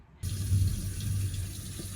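Water runs steadily from a tap while bleached hair is rinsed, a close, continuous gushing splash that starts abruptly after a brief silence.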